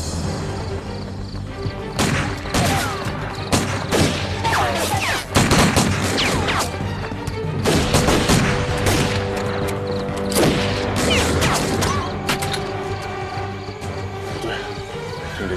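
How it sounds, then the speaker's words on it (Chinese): Bursts of gunfire from a war film set during a Japanese occupation crack repeatedly over about fifteen seconds, with sharp, loud shots in irregular volleys and some crashing impacts. "枪声"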